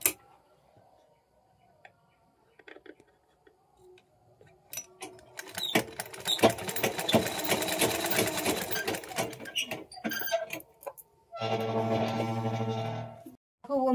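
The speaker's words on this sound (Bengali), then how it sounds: "এই যে ফিতেটা লাগিয়ে এই দুটো সমান বরাবর করে কিভাবে সেলাই করছি দেখো" Sewing machine stitching fabric with a ribbon attached, starting with quiet handling and clicks, then bursts of rapid mechanical whirring, and ending in a steady, louder run.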